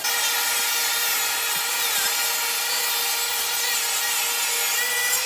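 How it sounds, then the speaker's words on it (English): Continuous power saw cutting Baltic birch plywood into 3-inch-wide strips, a steady bright whine with a broad rasp that holds level from start to finish without pause. "we're going to cut 2 pieces of Baltic birch plywood at 3 inches wide"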